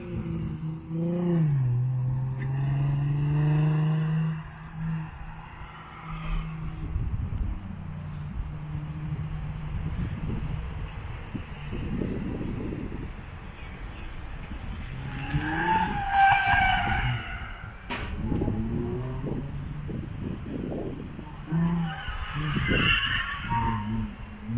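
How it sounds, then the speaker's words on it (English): A Nissan 350Z drifting around a track hairpin, its engine droning steadily, with sharp tire squeals rising near the middle and again toward the end. "finish drifting over here and come back"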